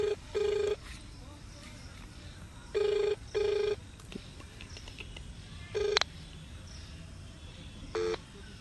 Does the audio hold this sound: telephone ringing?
yes